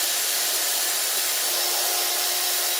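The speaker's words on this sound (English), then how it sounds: "Come to the center of it, or near center, and drill a hole." An electric drill whines steadily and loudly, a continuous high-pitched grinding hiss as the bit cuts a hole into a plastic bottle, with no pauses.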